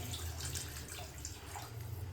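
Water poured into a pot of boiling oil while cooking mutton curry, a quiet continuous liquid rush and splashing with a low rumble beneath, faint and steady.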